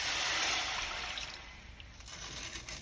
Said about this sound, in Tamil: உங்களோட 3 கப் தண்ணியை கொட்டிடலாம்